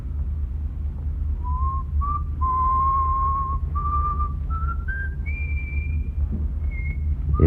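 A person whistles a slow melodic tune in a vintage radio comedy, with clear sustained notes that step upward over a steady low background hum.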